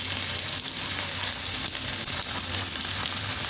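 Ginger garlic paste sizzles in a hot frying pan with oil, a loud, continuous crackling hiss with small pops and faint stirring scrapes, steady throughout.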